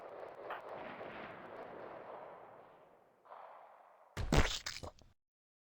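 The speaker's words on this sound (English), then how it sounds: "Because of the chain shotgunners just dumping on him." Rapid chain shotgun fire in the RimWorld video game, a sustained rumbling barrage that fades out and then returns, ending in a sharp, loud burst of cracking blasts before silence.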